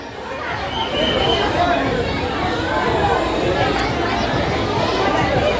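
Steady crowd chatter fills a busy fairground with lights at Bhiwandi, a dense babble of many voices close around and continuous throughout, with no single speaker standing out.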